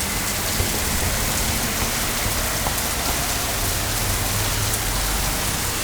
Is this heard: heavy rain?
yes